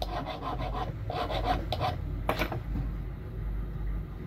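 A metal file rasps against a cuticle nipper's blades in close, steady back-and-forth strokes, with a brief sharper scrape partway through and no talk.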